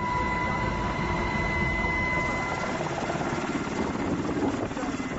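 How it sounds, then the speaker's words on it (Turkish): A Sikorsky-type military helicopter of the Turkish Army's 2nd Army Command in Malatya, flying out on a medical evacuation to a village in Adıyaman; a steady, loud rotor and engine roar holds throughout with faint talk beneath it. "havalanan Skorsky tipi askeri helikopter Demirtaş köyüne giderek"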